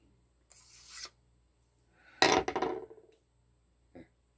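A Schrade SCHF3N knife blade is drawn through a handheld sharpener in a few separate strokes: a short rasp, a longer louder grinding scrape, then a brief final swipe, with silence between.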